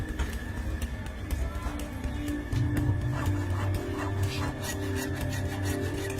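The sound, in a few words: hacksaw sawing steel bars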